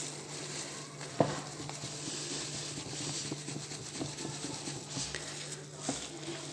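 Flour folded by hand into foamy whipped eggs for a sponge cake: quiet, soft patting and rubbing squelches at close range, with one sharper tap partway through.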